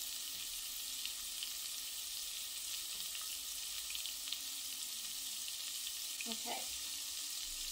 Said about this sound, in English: and put it in your cast iron. You will brown your beef.